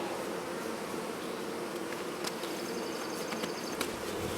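Honeybees from a hive built inside a cat house hum in a steady, dense drone throughout, with a few sharper buzzes from individual bees passing close.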